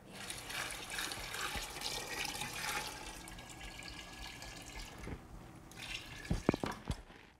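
Cold water pours into a Big Mouth Bubbler homebrew fermenter holding wort, a steady close splashing stream that ends with a few sharp drips and knocks.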